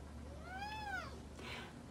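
A rescue cat gives a single clear, drawn-out meow that rises and falls, followed by a brief softer breathy sound, quiet and close in a calm room.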